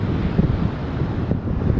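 Loud, steady wind buffeting the microphone on a beach, a continuous rushing roar with no voices.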